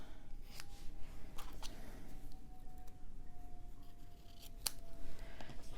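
Scissors snip ribbon with several short crisp cuts spaced irregularly over a faint room hiss, quiet and close.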